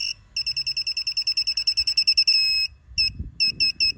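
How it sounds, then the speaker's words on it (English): Elsema Eclipse gate control board sounding a rapid train of sharp electronic beeps on power-up, then a longer steady tone and a few slower beeps over low handling thumps; close and clear. "We'll get a few beeps."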